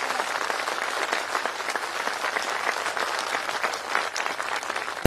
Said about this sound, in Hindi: एक जोरदार तालियों के साथ